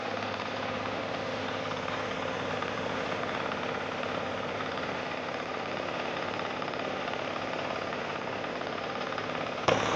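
A Kentavr 15D walk-behind tractor engine roars steadily and loudly at close range while tilling black soil, a continuous rough mechanical drone with no pauses.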